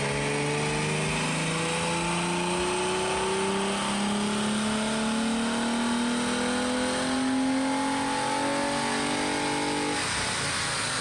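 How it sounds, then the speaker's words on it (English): A Toyota Camry on a dyno before its exhaust work revs in one long, loud, rising pull with the engine tone climbing steadily, then it cuts off abruptly near the end. "I also have a short video of my Camry running on their dyno before my exhaust was done by them."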